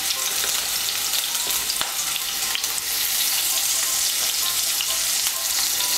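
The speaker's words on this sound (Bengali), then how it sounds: "এর মধ্যে আমি আলুগুলো ভেজে নেব" Potato pieces frying in hot oil with a little salt and turmeric, a steady close crackling sizzle with occasional stirring clinks, no talking.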